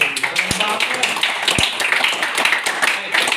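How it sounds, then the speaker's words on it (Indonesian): Students in a classroom clap for a group, a brisk patter of hands with a couple of louder thumps, mixed with voices talking over it. "kasih tepuk tangan yang semangat untuk kelompok"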